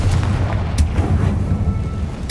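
A Confringo fire blast spell in Hogwarts Legacy bursting with a loud, sustained rumbling boom, heavy low-end roar and crackle filling the moment without any voices.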